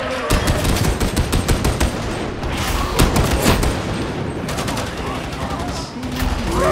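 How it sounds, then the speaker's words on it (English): Rapid, dense gunfire from an ultimate ability in Warhammer 40000 Darktide, a near-continuous fusillade of sharp shots with booms mixed in, loud throughout with faint talk underneath. "Look how fast I shoot with my ult."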